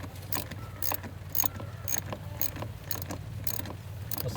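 A wrench being put away during battery terminal cleaning on a car, heard as a series of close metallic clicks and clinks in a fairly regular rhythm over a low hum.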